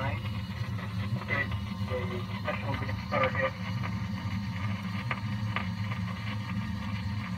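A voiceOgraph record-cutting machine, modelled on a 1960s vintage original, runs with a steady mechanical hum and a low motor drone, with light clicks from its mechanism, all moderately close and continuous.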